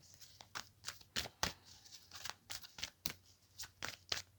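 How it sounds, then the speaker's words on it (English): Tarot cards shuffled by hand in a quiet room, a run of crisp riffling bursts and soft slaps at irregular intervals over a low steady hum, close and clear with no talking. "Feel free to fast forward past the shuffling."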